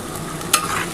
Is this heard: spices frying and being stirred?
yes